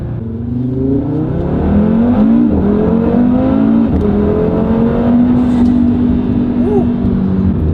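Audi RS3 engine fitted with a 034Motorsport 4-inch carbon intake, heard from inside the car with windows down as it drones and revs steadily, loud and continuous with rising and falling pitch.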